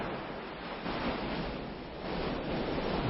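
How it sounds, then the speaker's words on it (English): Steady ocean surf washing on a warm, sunny day, a continuous broad hiss of waves that swells and eases, with no talking. "And listen to the ocean."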